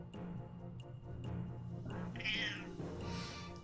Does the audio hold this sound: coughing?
no